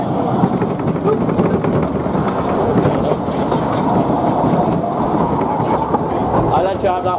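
A train rumbles and clatters steadily as it curves onto a track at a small yard station, with dense rolling rail noise and faint squeal near the end, loud and continuous.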